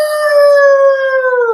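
A person imitates a werewolf howl, one sustained, loud, close tonal wail with a steady pitch that sags slightly toward the end, heard alone with no other sound.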